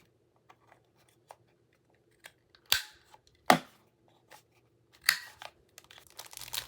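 Scissors cut journal cards made from Masterboard print with a few sharp, crisp snips and papery crunches between quiet pauses, close up and without talk.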